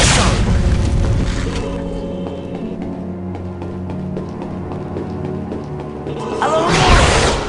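A Depulso spell effect in a Harry Potter video game, a loud booming blast at the start with a rumbling sustained tail, then another heavy whooshing boom near the end.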